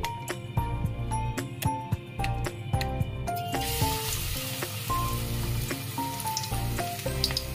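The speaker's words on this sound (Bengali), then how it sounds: "কুমড়ো ফুলের বড়াগুলো করে নেব। দেখুন আবারও দিয়ে দিচ্ছি তেলের মধ্যে।" Pumpkin flower fritters frying in hot oil, a steady crackling sizzle with scattered sharp pops, close and fairly quiet, no talking.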